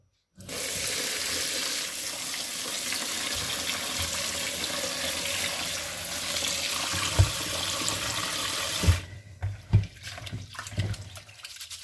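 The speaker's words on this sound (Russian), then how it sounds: "я вот так промываю ее, и посмотрите, как окрашивается вода." Running tap water pours steadily while Devzira rice is rinsed, a constant close hiss, then the flow stops and a few wet sloshes and clinks follow.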